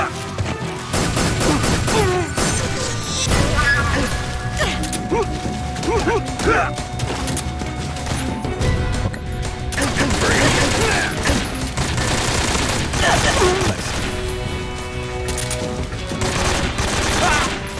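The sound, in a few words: gunfire from enemy soldiers in Metal Gear Solid 3 video game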